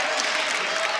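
Crowd cheering and clapping at a Big Ten college wrestling dual meet between Duke and Maryland, a dense, loud roar of applause filling the arena for a brief second.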